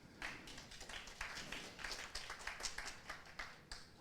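A round of applause at a morning meeting in Jamaica, with sparse, uneven clapping from a small crowd that stays faint and distant.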